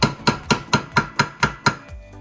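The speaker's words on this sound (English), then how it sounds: "These are a bit rusty, so I'll give the spanner a tap." Hammer striking a spanner fitted on rusty brake caliper bolts of a Mitsubishi GTO, eight loud evenly spaced metallic taps in quick succession, then a softer final knock.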